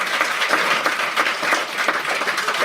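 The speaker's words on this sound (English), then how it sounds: "Big round of applause." Enthusiastic audience applause at an international tourism conference, a close, lively burst of many hands clapping with slight surges in intensity and no talk.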